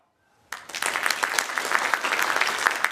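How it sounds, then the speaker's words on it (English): Conference audience at the RoboCon 2025 opening bursts into applause after a brief near-silence, a dense, steady clapping from many people that holds at an even, moderately loud level to the end. "Maybe those who are from Finland, please clap"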